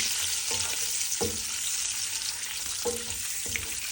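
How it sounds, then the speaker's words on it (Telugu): An egg fries in hot oil with a steady, close crackling hiss, broken by a few sharp pops and spatula clicks spaced a second or so apart; no voices. "ఇలా ఘాట్లు కానీ బెజ్జాలు కానీ లేకుండా వేస్తే ఆయిల్లో ఎగ్ పేలుతుంది."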